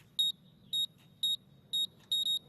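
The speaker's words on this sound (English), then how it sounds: "all you have to do is input your code here and hit the arm button" A home alarm system keypad beeps as it is armed: five short, clean, high electronic tones at even intervals, the last one doubled, alone over a faint low room hum.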